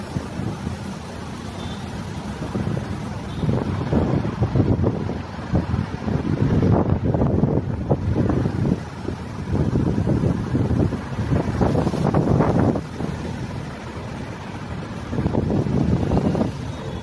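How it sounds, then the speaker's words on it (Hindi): Strong, cold wind gusts outdoors on a sunny day, roaring across the microphone while leaves rustle in waves of swelling and fading noise, with no voices. "आवाज आई पत्तों के हिलने की"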